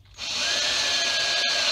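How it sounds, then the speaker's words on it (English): A power drill boring a pilot hole during a voltage gauge and USB port installation, a steady high whine that starts abruptly and holds close and loud throughout with a brief dip near the end. "all I want is to drill a pilot hole to start with"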